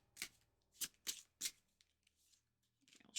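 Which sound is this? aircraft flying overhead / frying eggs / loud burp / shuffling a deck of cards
shuffling a deck of cards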